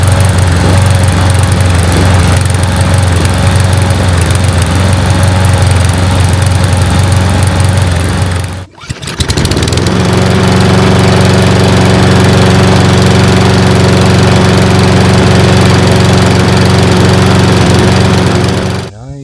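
A Husqvarna HU675AWD walk-behind lawn mower engine runs loudly and steadily after a carburetor cleaning, with a brief dropout midway before it settles back into an even, close drone.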